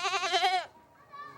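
A goat gives one wavering, trembling bleat up close, followed by a fainter, thinner cry after a short pause.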